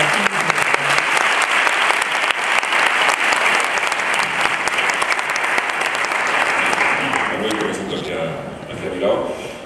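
Loud, steady applause from an audience at a round-table business forum on small-company challenges, greeting the panelists, with dense clapping throughout that thins toward the end as a voice begins speaking.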